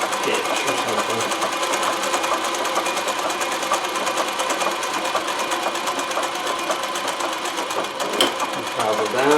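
A Consew CN2053R-1A industrial sewing machine runs steadily during free motion embroidery, a fast continuous mechanical whirr and needle rattle with a brief knock near the end, and a person talking over it.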